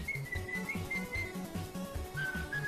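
Melodic whistling rides over chiptune-style 8-bit video game music, a bouncy, pulsing bass beat under bright sustained whistled notes that glide between pitches across a short phrase.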